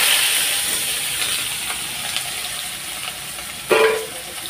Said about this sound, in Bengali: আলুটা ভাজা বসিয়ে দেবো